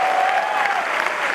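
An audience fills a hall at an Amway celebration with loud, continuous clapping, a thick, even roar of many hands close by, with a faint voice or whistle tone riding over it.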